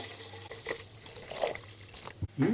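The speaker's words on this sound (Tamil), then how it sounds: "தண்ணியை இப்போ நம்ம வந்து விடுவோம் இது வந்து ஆறு கப்பு தண்ணி எடுத்துருக்குறேன்" Water pouring into a pot of seeraga samba mutton biryani, a steady faint splashing and trickling near the mic with a brief louder gush at the end.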